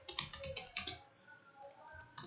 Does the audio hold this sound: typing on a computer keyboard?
yes